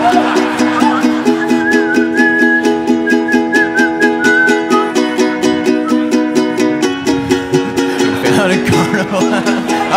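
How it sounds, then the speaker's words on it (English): A person whistles a melody line during a stripped-down acoustic country song performance, the clear whistle riding over steadily strummed guitar chords for the first few seconds before the strumming carries on alone. "Oh man, it's a lame whistle."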